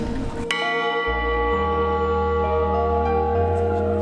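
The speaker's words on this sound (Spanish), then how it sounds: "campana es especial por la aleación, tiene oro, plata y bronce. Y eso hace que el sonido sea más especial." A church bell cast from an alloy of gold, silver and bronze in Real de Asientos, Aguascalientes, rings clearly and alone, with a rich sustained hum that decays slowly after the strike.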